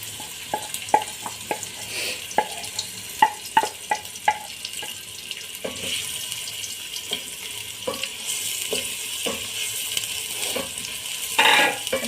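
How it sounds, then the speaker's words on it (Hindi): Three chopped onions fry in about one and a half cups of oil in a large pot, a close sizzling hiss punctuated by sharp stirring clanks and scrapes, with no voices. "अब हम इसके अंदर 3 अदद प्याज चॉप कटिंग इसके अंदर डालेंगे और इनको ब्राउन कर लेंगे।"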